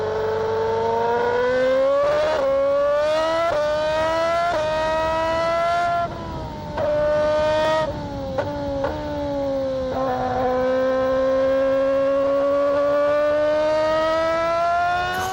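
Jenson Button's Honda Formula One car screams at high revs with a piercing, near engine whine. Rapid upshifts break the pitch into rising steps before it settles into a long, sustained howl.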